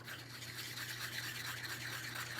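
Pigment colors being stirred into a small cup of resin, a steady close scraping and rubbing that continues without pause over a low background hum.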